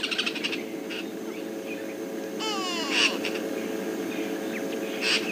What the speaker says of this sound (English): You can also hear the call of the go-away bird, quay, in the distance.